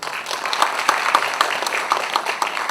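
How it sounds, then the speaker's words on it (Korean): Steady applause from an audience at an apartment reconstruction briefing, many hands clapping densely and evenly throughout with no voices standing out. "백 대표님을 박수로 맞이해 주십시오."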